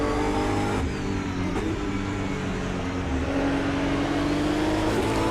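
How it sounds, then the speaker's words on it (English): BMW GT3 race car engine in the racing game Automobilista 2, a loud, steady high-revving drone that climbs through the gears with brief shift dips, heard alone without talk. "this BMW sounds pretty amazing"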